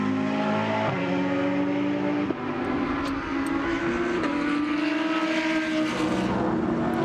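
GT race cars, including a Lamborghini, run at full speed through Nürburgring qualifying in the 2019 Blancpain GT World Challenge Europe: a loud, steady engine roar broken by sharp gear-change steps and rising revs, with no talk.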